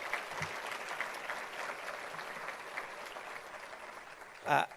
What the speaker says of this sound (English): Can we please give a warm round of applause to Oscar?